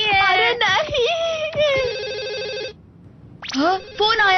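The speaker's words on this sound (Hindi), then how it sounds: "हाँ, फोन आया है।" A cartoon telephone rings in a Doraemon episode, sounding in two long electronic trilling bursts with a short gap between them, loud and close, with a voice briefly over the start.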